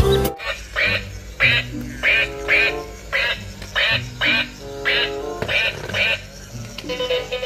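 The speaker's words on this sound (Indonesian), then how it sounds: "Wow, ada bebek teman-teman." A duck quacks repeatedly in a steady rhythm, about ten loud, close nasal quacks evenly spaced, with a faint background hum and no talk between them.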